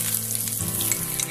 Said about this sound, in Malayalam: കടുക് പൊട്ടി തുടങ്ങുന്നുണ്ട്